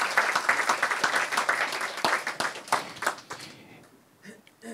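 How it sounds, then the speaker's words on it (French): A congregation applauds at a church gathering, brisk clapping with distinct individual claps standing out, strong at first and then thinning and fading away, leaving a few scattered sounds. "On peut aussi l'applaudir également."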